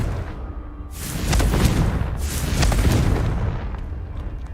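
A Confringo blasting spell explodes in Hogwarts Legacy, two heavy rumbling booms in quick succession with a crackling burst, loud and close.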